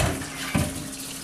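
Warm water poured into a bucket for home brewing, a steady close splashing pour with a brief louder gush partway through.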